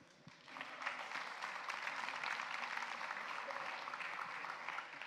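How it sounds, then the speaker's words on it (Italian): An audience at a conference talk keeps up a sustained, even round of applause, dense clapping heard from a distance at fairly low level throughout. "Vi chiederei di prolungare l'applauso"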